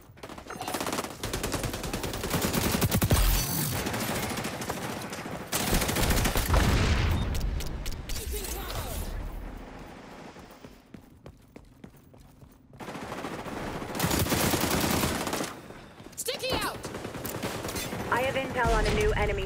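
Bursts of automatic gunfire in the XDefiant shooter game, dense volleys that rise and fall with short pauses between them, with game voice lines heard at times among the shots.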